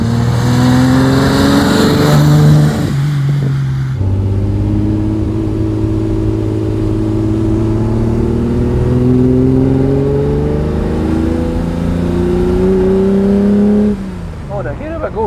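A 1968 Ferrari 365 GT 2+2 with a V12 engine revs loudly and close, its pitch climbing and falling in smooth sweeps, with a sharp gear change early on and the tone dropping away at the end.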